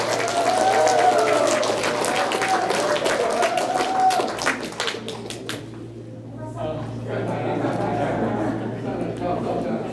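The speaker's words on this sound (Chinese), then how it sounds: "那我们先请最热烈的掌声欢迎我们第一位代表" An audience at a community association meeting applauds to welcome a speaker, dense clapping for about five seconds that fades out, followed by talk and room noise.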